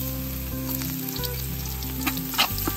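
Garlic sautés in a hot pan with a steady, close frying sizzle and a few brief louder crackles near the end, with no voices.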